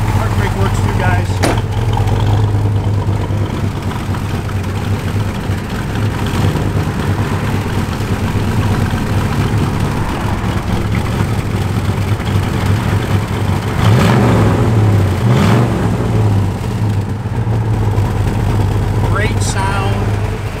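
A 1964 Pontiac GTO convertible's engine idles with a loud, deep, steady rumble close by. The engine note swells briefly partway through as it is revved slightly.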